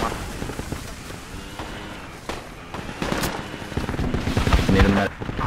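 Enemy gunfire during a Project Reality match, irregular bursts of shots and distant cracks mixed with battlefield rumble, building louder toward the end.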